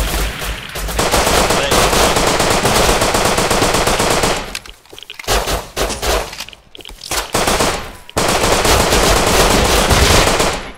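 Loud, rapid automatic gunfire from the survival game Rust Legacy during an airdrop raid, sustained bursts broken by brief gaps and scattered single shots, dense and close, with no voices over it.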